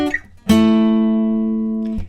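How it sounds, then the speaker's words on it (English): A short guitar riff on two strings: a light pick, then both strings struck together ring out for over a second before being muted. "And altogether, the riff sounds like this."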